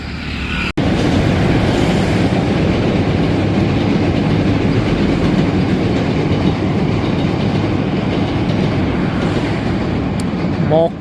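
Train rumbling past on the track, a loud, steady roar with rhythmic rattling of wagons, close by and continuous for the whole stretch.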